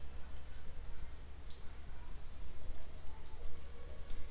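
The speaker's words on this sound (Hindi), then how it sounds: "देखिए बारिश होने लगा है बहुत ज़्यादा" Heavy rain pours steadily in a village street, a dense and constant hiss of drops striking surfaces, with a few sharper splashes. No one speaks.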